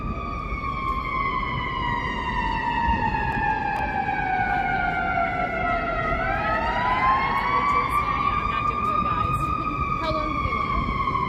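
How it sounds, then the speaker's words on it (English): A wailing emergency siren sweeps slowly down and then rises again, steady and fairly close, over low city rumble along the Chicago Riverwalk. "I'm not going to try to talk over the sirens until it gets down here."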